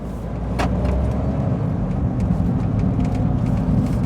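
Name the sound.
Smart car with micro hybrid drive pulling away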